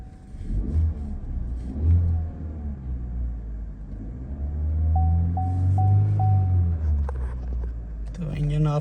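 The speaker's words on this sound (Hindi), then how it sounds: "गाड़ी का कोड क्लियर करते हैं, गाड़ी को स्टार्ट करते हैं दोबारा से।" A Chevrolet engine, its throttle soaked with cleaner during an intake air flow repair, cranks and catches, then revs up and settles in a steady mid-pitched rumble, heard close with a person talking over it.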